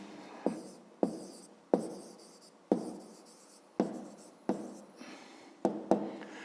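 Calculations for a fifth-grade maths exercise are written by hand: sharp pen or pencil strokes on paper, each starting with a tap and then a short scratch, about ten strokes in an uneven rhythm, close and clear.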